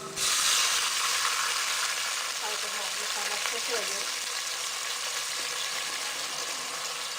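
Chicken broth (yakhni) goes into a hot pot for chicken yakhni pulao, setting off a loud, continuous sizzle and hiss that slowly settles but stays steady throughout.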